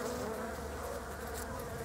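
Honeybees buzzing steadily around a hive wrapped in double foil, a dense continuous hum close by with no voices.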